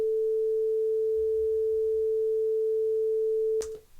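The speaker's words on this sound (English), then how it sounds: "It is a perfect sine wave." A steady, pure electronic tone holds at a single pitch for several seconds, then cuts off abruptly with a brief click.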